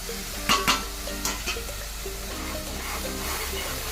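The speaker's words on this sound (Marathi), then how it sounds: "तेल सुटस्तपर्यंत मसाल्याला आपल्याला चांगलं परतून घ्यायचं आहे" A homemade spice masala with red chili powder, turmeric and salt is sautéed in oil for a sprouted horse gram curry: a steady soft sizzle with a few sharp stirring clatters early on, close by and fairly quiet.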